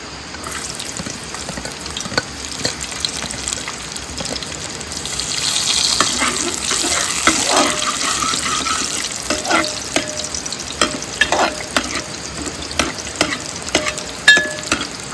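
Crab cooks in hot oil in a pan on a gas stove, sizzling and frying steadily at close range. Stirring scrapes and some splashing, tap-like water sounds come and go over the sizzle.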